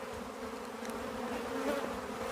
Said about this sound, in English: the sound of angry bees can almost put you to sleep once you realize you're not going to die